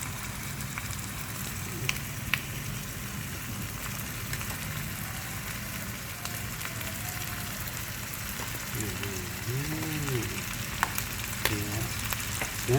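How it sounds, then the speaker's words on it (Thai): Beef with holy basil stir-fries for pad krapao, a steady, fairly quiet sizzle with occasional scrapes and clicks of stirring and no talk. "ทำผัดกะเพราเนื้อนะครับ"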